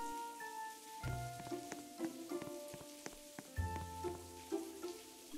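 A Roblox Wacky Wizards potion rains bouncy balls, giving rapid pattering, bouncing impacts in irregular bursts over steady tonal game music.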